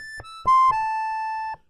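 An accordion plays a few short sustained notes and chords with gaps between them, moving from one held tone into a longer one, close and clear with no talking.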